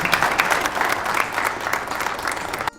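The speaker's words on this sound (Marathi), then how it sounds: "त्यांच्यासाठी एकदा टाळ्या वाजवा सगळ्यांनी" An audience applauds at a certificate and prize distribution ceremony for a fort conservation programme. Dense, steady clapping from a large crowd lasts about three seconds, then stops abruptly.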